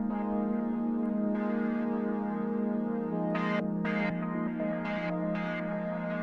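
A resonant synth pad run through the REAKTOR Lurker modulation effect sustains a steady tone while rhythmic bright bursts and stuttering filter sweeps pulse over it in an uneven sequenced pattern. No voices.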